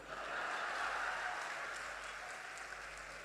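An audience at a comedy show by comedian Sunil Pal during the Kanpur Dehat Mahotsav festival applauds in a sustained, dense wash of clapping that swells early and then eases slightly.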